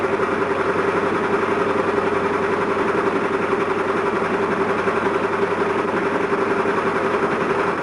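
A home sewing machine runs steadily and continuously, a close, even mechanical hum with a fast rhythmic chatter, loud and alone without any voices.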